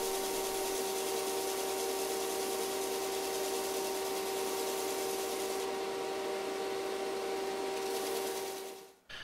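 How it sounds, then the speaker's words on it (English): A belt sander runs steadily, grinding down a wooden popper fishing lure with a continuous loud whirring hum and abrasive rasp, no speech, before cutting off at the end. "I then just went over to my belt sander and sanded"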